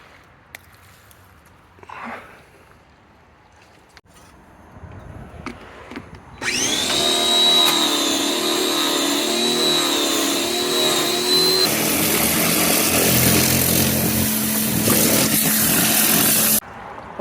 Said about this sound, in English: The first thing I'm going to do is pressure wash it.